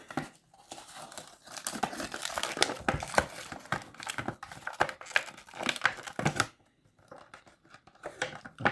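Stiff plastic packaging around a 1/43 scale Matra MS10 model car crinkles, crackles and tears in close, busy bursts, with a short quiet gap near the end before the rustling resumes.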